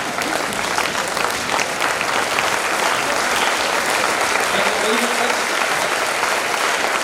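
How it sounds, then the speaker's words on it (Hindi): Loud, dense applause from a large audience at an annual college event, a continuous wash of clapping that holds steady throughout with no pause. "जोरदार तालियां होनी चाहिए इसके लिए."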